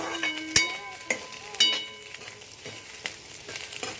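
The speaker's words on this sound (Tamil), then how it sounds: "இப்போது 2ஐயும் போட்டு முட்டையும் வெஜிடபிள்ஸ் போட்டு நல்லா வதக்கி விட்ருங்க" Egg and vegetables sautéing over a high gas flame for Mumbai-style egg schezwan fried rice, with a steady close sizzle broken by several sharp metallic clanks of a spatula against the pan.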